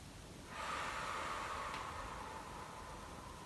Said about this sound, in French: Puis, soufflez par la bouche.